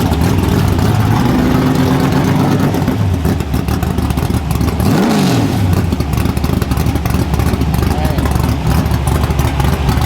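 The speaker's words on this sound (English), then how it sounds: "You can hear all 310 horsepower." A 310-horsepower small-tire street car revs loud and steady, its engine pitch climbing and falling through the whole stretch while people talk excitedly over it.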